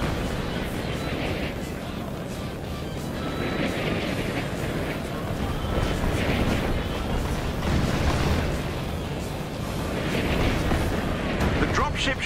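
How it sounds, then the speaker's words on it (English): Artillery fire and explosions in the video game Marvel's Avengers, heavy booms and rumbling blasts rolling on continuously at loud volume, with voices speaking over the barrage. "Their artillery's targeting you."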